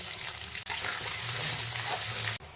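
Cardamom, cloves, cinnamon, cumin seeds, bay leaf, a pinch of sugar, chopped garlic and onion fry in a pan with a loud, steady close-up sizzle, broken by two short cuts.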